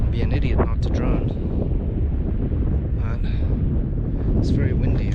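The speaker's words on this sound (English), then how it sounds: "It's very windy" Strong wind on a mountain at Tvergastein buffets the microphone in loud, continuous gusts, with a rough, rumbling roar throughout.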